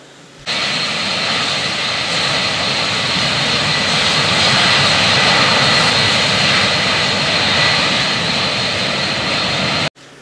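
A small turbojet engine runs steadily at idle, around 3,000 RPM, a loud continuous whine and roar that starts abruptly and holds even before cutting off near the end.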